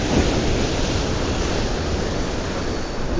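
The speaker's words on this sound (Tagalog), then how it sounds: "Ang laki ng alon." Big ocean waves crash and wash over a rocky shore at a fishing spot, a steady, loud roar of surf and spray that fills the whole stretch without a break.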